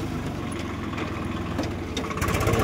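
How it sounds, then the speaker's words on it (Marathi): A Swaraj tractor engine churns steadily through rain-soaked mud on a track between vegetable fields, a close, continuous mid-pitched rumble with rhythmic knocking pulses that grows louder and harsher near the end. "घेतला ट्रॅक्टर पुढे"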